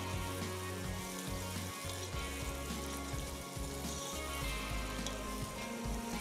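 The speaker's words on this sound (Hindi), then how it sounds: "जब तक कि ऑयल अलग नहीं हो जाता मसाले से इसको भूनते रहेंगे" Masala being bhuna in oil in a pan for a lauki chana dish, a steady close sizzle and crackle of frying that holds evenly throughout with no talking.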